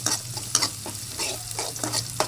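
Chopped onion frying in hot oil in a pan until golden for a Tamil greens dish, a steady close sizzle broken by repeated scraping stirs.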